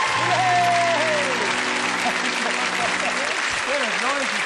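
Studio audience at a 1977 television game show applauds in a dense, steady wash of clapping, with voices talking briefly over it.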